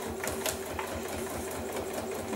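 A sewing machine stitches steadily at close range with a continuous motor whir and rapid needle clatter, and no voices are heard.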